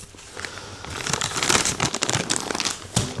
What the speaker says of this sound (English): That's my rabbit skin glue going in.